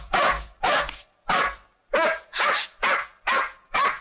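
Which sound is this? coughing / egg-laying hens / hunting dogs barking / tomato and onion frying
hunting dogs barking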